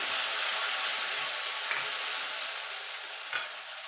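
Whole cumin, tomato paste, ginger and green chilli frying in a pan for a Bengali raw jackfruit kofta curry, with a steady close sizzle, a few soft stirring scrapes and a brief sharper spatter near the end.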